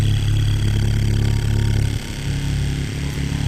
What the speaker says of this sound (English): This is the motorcycle clip once again.